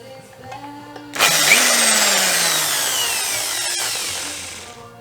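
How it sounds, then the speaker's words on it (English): Power drill boring a hole for a snorkel install on a D22 Nissan Navara, a loud steady whine that starts abruptly after a quiet moment and runs for several seconds, slowly easing in pitch. "Let's drill a hole."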